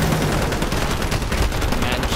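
Rapid, continuous automatic gunfire rattles loudly in Call of Duty Modern Warfare 2 Remastered, a dense unbroken fusillade of close shots filling the whole moment.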